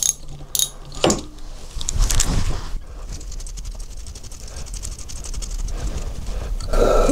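A spanner undoes a nut on the timing cover of a Triumph T140 motorcycle, with a few sharp metallic clicks and ratcheting turns, then quieter scraping and handling of parts.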